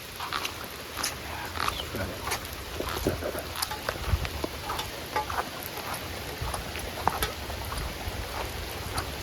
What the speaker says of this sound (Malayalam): മഴ പെയ്തുകൊണ്ടിരിക്കുകയാണ് അപ്പോൾ നല്ല മഴയുണ്ട്